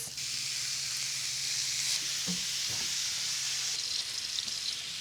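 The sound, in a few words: chorizo frying and browning in skillet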